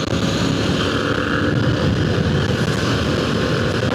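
Naked motorcycle with no fairings running wide open in fifth gear, a loud steady engine roar mixed with heavy wind rush on the microphone, sustained and close throughout.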